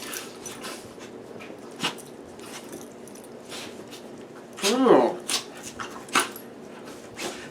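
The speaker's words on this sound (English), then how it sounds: "this is Freya, the crazy puppy" A puppy whimpers in short, high squeaks and lets out a few yips, close and fairly faint, with soft movement noises around it.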